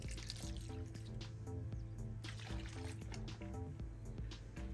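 Water poured into a mortar mix for finishing a house foundation plinth, a steady wet trickle and splash running continuously with soft dripping, close and moderately loud.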